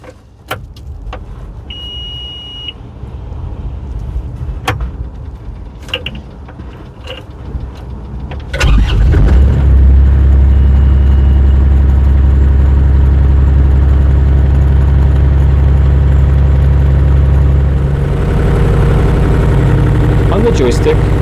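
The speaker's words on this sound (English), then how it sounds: "Now let's start the wheel loader." A JoyT5 JT5WL1000 one-ton wheel loader's engine is cranked and catches partway through, then settles into a loud, steady, close-up idle; quieter mechanical clicks come before the start.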